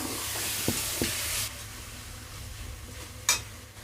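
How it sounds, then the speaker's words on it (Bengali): Sizzling spices in a kadai hiss loudly after a splash of water goes in, a couple of sharp clicks of a spoon on metal, then a softer frying hiss and one later burst of spatter. "এরপর আমি কড়ার মধ্যে দিয়ে দিলাম সামান্য একটু জল কারণ মশলাগুলো বসে যাচ্ছে কড়ার মধ্যে"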